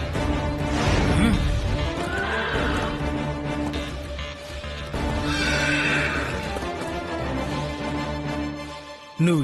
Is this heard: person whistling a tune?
no